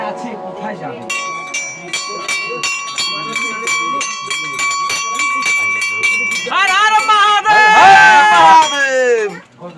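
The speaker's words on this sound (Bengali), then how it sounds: "একটু ঘন্টাটা বাজা।" Temple bell at Mahakal Dham in Jayanti, Bhutan, rung in a rapid steady series of bright metallic strikes, then joined by loud chanting voices that swell over the ringing.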